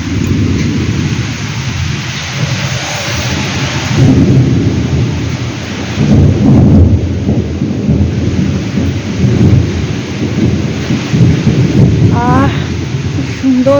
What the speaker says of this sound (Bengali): সাথে দেখো বাজ পড়ছে আর বৃষ্টি নেমে গেছে